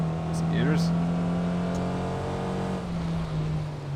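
A Mazda Miata engine in the Assetto Corsa racing game drones steadily, with quick rising pitch sweeps as it revs through gear changes early on, while someone talks over it.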